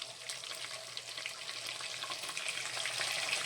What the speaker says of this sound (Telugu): ఉల్లిపాయ ముక్కలు వేసుకొని కొంచెం వేగనేయాలండి